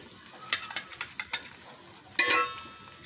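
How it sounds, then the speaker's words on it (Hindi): Ginger-garlic paste and green chillies fried in a pot for pulao: soft spoon scrapes and taps, then a short burst of loud sizzling, up close. "और इसे भून लेते हैं ताकि इसका कच्चापन भी दूर हो जाए।"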